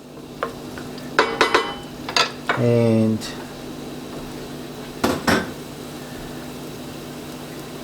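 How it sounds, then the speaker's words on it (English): Onions fry in a pan while a sauce for zucchini pasta is being made. A steady low sizzle sits beneath loud clinks and scrapes of utensils against the pan and a brief rattling stir, with a voice present. "I like that sizzle."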